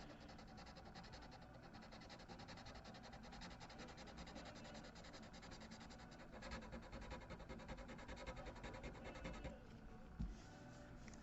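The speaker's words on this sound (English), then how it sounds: "when you're sanding CA glue, it'll load up your sandpaper pretty quickly" Sandpaper rubs steadily over hardened CA glue on a Yamaha acoustic guitar neck, a quiet continuous scratchy back-and-forth rasp close by, with no talking.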